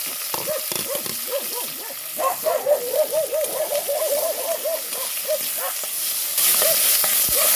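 Onion, tomato, garlic and ginger sauté in a pan over a countryside cooking fire, with a steady soft sizzle and stirring scrapes; repeated tonal hooting calls, like a bird or animal, carry on nearby throughout.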